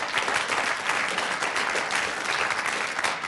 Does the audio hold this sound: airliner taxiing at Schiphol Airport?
no